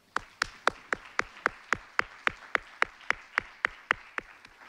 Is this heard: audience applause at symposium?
yes